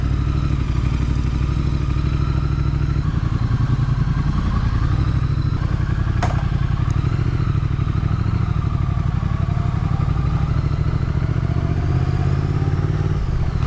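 A motorcycle with a Vance & Hines aftermarket exhaust rumbles loudly and steadily, with a deep throaty exhaust note and a brief revving swell partway through.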